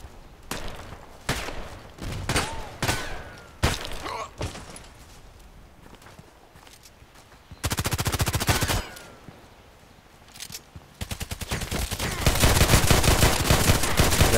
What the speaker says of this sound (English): my goodness, that has many shots, this little gun